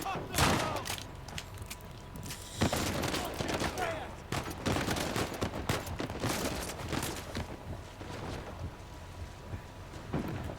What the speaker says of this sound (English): I'm going to shoot you with an old-fashioned pistol.